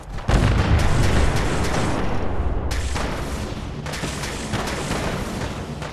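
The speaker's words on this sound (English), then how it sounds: "We can hear gunshots." Video game gunfire from a wasteland setting near the Radioactive Sea: dense, loud volleys of gunshots and booming blasts fill the scene continuously, with brief breaks between bursts.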